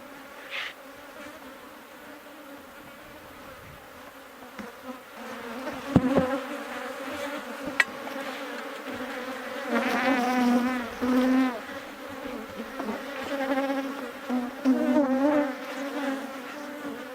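A steady swarm of honeybees hums close by around an opened hive, with individual insects droning louder as they pass near, over a constant buzzing background.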